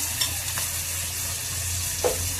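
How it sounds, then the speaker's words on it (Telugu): Onions and ginger-garlic masala paste frying in a pan for a raw prawn, raw mango and tamarind curry, with a steady sizzle, a low hum underneath and a few soft spoon scrapes, without talk. "ఇవన్నీ దోరగా వేగాలండి."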